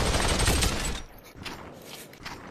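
Rapid automatic gunfire bursts out in the VR shooter Population One, dense and loud for about a second before cutting away to quieter game ambience.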